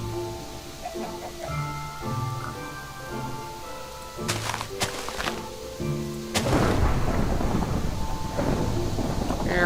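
A thunderstorm from a Minecraft weather mod rolls in a video game: low rumbling thunder with sharp cracks, then steady heavy rain hissing loudly, with faint game tones early on and no talk.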